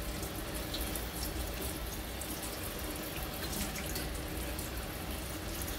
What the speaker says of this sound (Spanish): Con agua caliente se enjuaga.